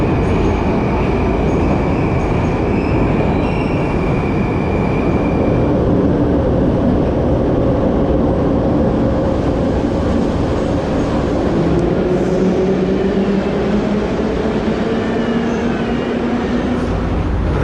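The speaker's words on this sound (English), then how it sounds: "Let's take a metro to our first place of interest." A Tashkent metro train rumbles loudly and steadily from inside a carriage, with a constant roar of wheels and rails and faint squealing tones rising and falling as it runs.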